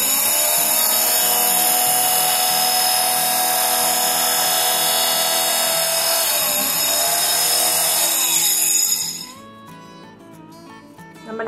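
Multiple-material cutting machine running a cut, a loud high-pitched whining drone held steady for about nine seconds before it stops and the sound drops to a quieter hum with faint whirring.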